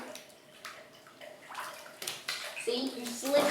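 Water sloshes and splashes in a bathtub while a cat is bathed, soft movement sounds building toward louder splashes near the end, with faint voices in the background.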